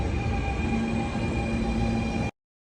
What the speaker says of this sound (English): And here we have the F train.